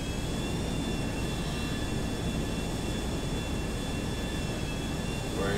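A plane taking off from a runway in a video game, a steady loud jet engine roar with a constant whine throughout.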